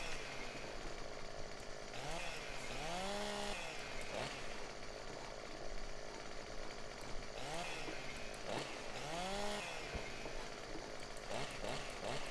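A chainsaw in the farming game Landwirtschafts-Simulator 15 drones steadily and fairly quietly, its engine pitch swelling and falling in repeated revving sweeps, with no talk.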